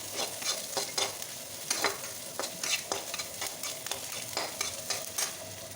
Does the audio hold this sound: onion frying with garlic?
yes